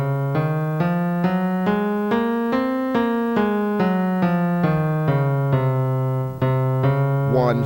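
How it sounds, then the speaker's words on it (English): A Locrian mode scale played one note at a time on a sustained, tonal instrument, stepping up an octave and back down in even rhythm, clear and close with no voices. "Sounds like this, a very dismal sounding scale."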